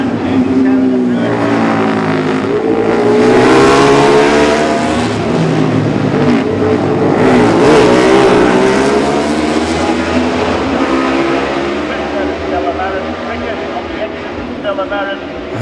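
Honda race motorcycles roar past at the Classic TT junior race on the Isle of Man, a loud continuous engine wail rising and falling in pitch as the machines pass, with a commentator talking over it.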